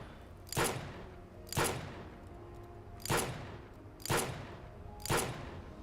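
Five evenly spaced gunshots in the Girls' Frontline 2 story, each a sharp loud crack with a booming tail echoing through a warehouse, roughly one per second over a quiet background.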